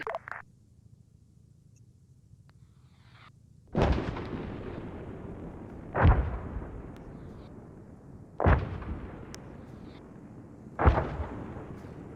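Rocket strikes in the combat game ARMA 3 land as four heavy booming explosions, spaced a few seconds apart, each with a long rumbling decay, after a short sharp burst at the start and no voices.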